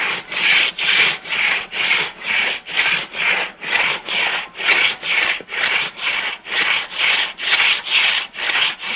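A handsaw rasps through a tree trunk at a Mt. Adams, Washington logging site, with about twenty even push-pull strokes in a steady, close rhythm.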